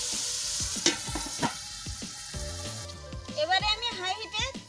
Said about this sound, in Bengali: এবারে আমি সমস্ত উপকরণ একসাথে নেড়ে চেড়ে মিশিয়ে নেব